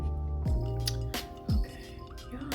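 Water drips from wet, freshly sprayed curly hair: a few distinct, close plinking drops fall at uneven intervals over a steady background hum.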